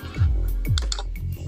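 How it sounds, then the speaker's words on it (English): Keystrokes on a computer keyboard, a handful of soft clicks in an uneven rhythm, close by and moderately loud, with low rumbling background. "while you're typing"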